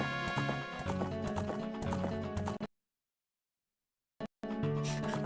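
Horse hooves clip-clopping in the Ocarina of Time video game, with a steady game music soundtrack throughout, cut by a silent gap of more than a second before the music and hooves resume.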